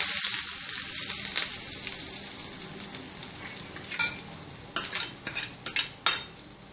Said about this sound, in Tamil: கருவேப்பிலை. இந்த சூடான நெய்யை இதில் விட்டுருங்க.